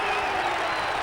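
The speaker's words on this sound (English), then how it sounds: "The crowd go wild" Rugby league crowd roaring and cheering after a try at a Workington match, a dense, steady wall of loud massed voices and applause filling the whole moment.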